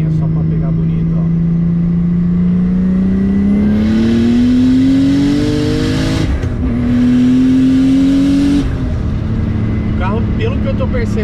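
A turbocharged BMW E36 accelerates hard in third gear, its engine note climbing loud and close. It drops briefly mid-pull, then climbs again before backing off, with a turbo whine over the exhaust.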